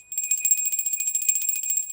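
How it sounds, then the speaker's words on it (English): A small bell rings with a continuous bright, high, metallic trill like a bicycle bell, sustained for about two seconds, close and alone with no voices. "we ring the bell."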